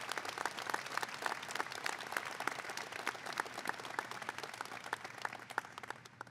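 An audience at a University of Cincinnati College of Medicine white coat ceremony claps steadily, giving sustained, moderately loud applause from a crowd in a hall.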